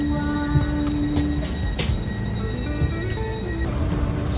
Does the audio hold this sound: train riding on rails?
yes